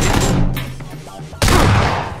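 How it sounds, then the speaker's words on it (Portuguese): Gunfire in a shooting video game, a dense burst of shots that fades, then a second loud volley cuts in sharply after a short lull. "que tiro foi esse?"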